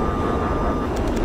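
A jet aircraft in a video game roars steadily overhead, a loud, broadband engine rumble that fills the whole moment with no talk.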